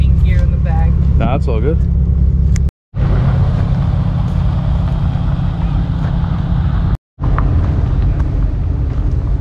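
A car at a large enthusiast car meet gives off a deep, steady engine rumble that runs throughout, with close conversation over it and two brief cuts to silence.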